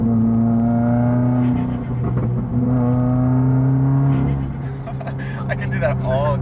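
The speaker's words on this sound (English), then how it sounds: "Oh, you just hear those turbo flutters" Turbocharged Subaru WRX accelerating on the road, a steady engine drone with rising and falling pitch as it rolls in and out of boost, brief fluttering chatter near the end, with people talking over it inside the car.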